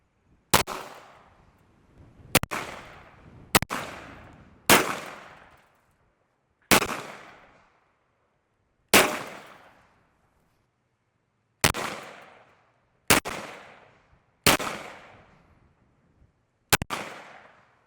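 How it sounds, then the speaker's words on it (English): Ten sharp gunshots crack one after another at irregular intervals, each loud and close with a short echoing tail, punching holes in a burn barrel outdoors. "That's the first time I've shot that gun, and it's amazing."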